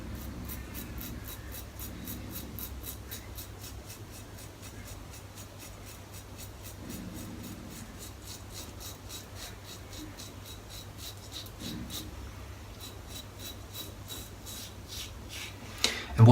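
A dense Kabuki-knot shaving brush scrubs lather against skin in a steady, soft rhythmic rasp of quick back-and-forth strokes, close and moderately loud with no talking.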